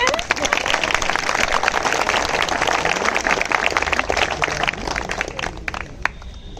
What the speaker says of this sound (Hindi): सब लोग ताली बजा दीजिए एक बार